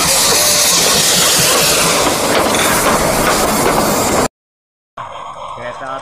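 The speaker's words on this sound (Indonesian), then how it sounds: "Coba kita hidupkan kereta apinya ya." A toy train runs after being switched on, giving a dense whirring rattle with hissy clatter close by; the noise breaks off briefly and then resumes.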